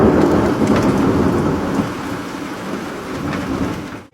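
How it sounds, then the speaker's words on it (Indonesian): Heavy rain pours steadily during a sudden shower while grass and brush are being cut, with a low rumble of thunder rolling underneath; the loud downpour eases slightly toward the end. "tiba-tiba mendung datang dan akhirnya hujan"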